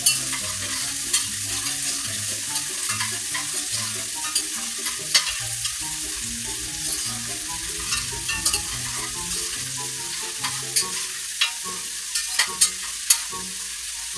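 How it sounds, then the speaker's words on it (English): Onions frying in a pan for smothered pork chops, a steady close sizzle with frequent stirring scrapes and clinks of a utensil against the pan throughout. "The onions are cooking."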